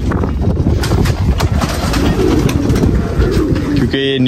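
Pigeons coo close by, soft throaty repeated calls over a busy background, ending with a brief louder tonal sound.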